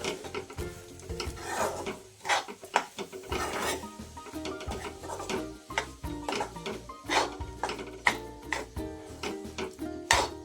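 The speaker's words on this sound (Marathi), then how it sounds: "असं परतवून घ्यायचं आहे हळूहळू" A spoon stirs and scrapes podi upma around a pan over low heat, giving steady rasping, gritty strokes with irregular metallic scrapes close up and moderately quiet, with no talking.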